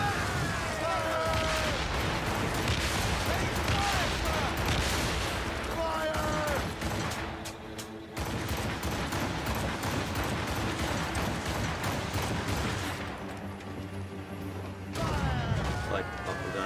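Ship cannons fire repeatedly during a naval battle in Assassin's Creed Rogue, with rapid volleys of booms and crackling shots mixed with creaking mechanisms and shouted voices throughout.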